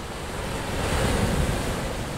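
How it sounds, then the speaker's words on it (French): Choppy cross sea with energetic, low-sloped waves, heard at sea during a paddle foil crossing from Toulon to Calvi: a continuous broadband wash of surf and wind rumble, swelling slightly midway, close and steady with no talk. "mer croisée avec beaucoup d'énergie, assez peu de pente dans les vagues"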